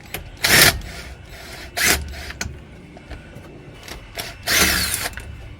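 A ratchet works on 15 millimeter flange bolts of a Chevy truck CV axle on a driveway, making several short loud clicking bursts separated by quieter pauses.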